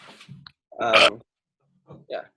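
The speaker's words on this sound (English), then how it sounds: "That was kind of a good burp. It's a little forced." A single forced burp, short and throaty, sounds up close between bits of casual talk from people nearby.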